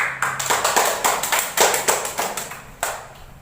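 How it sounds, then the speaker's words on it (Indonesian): Classroom of students clapping for the last group, a short burst of close hand claps in a quick, fairly even rhythm, loud and alone. "tepuk tangan untuk kelompok terakhir"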